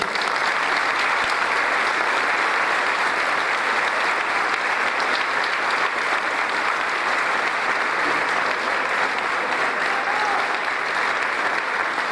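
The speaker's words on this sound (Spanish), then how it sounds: "Así que un aplauso para él." Steady, dense applause from a large crowd at a campaign rally in Zapala fills the whole stretch, loud and unbroken, with no voices rising above it.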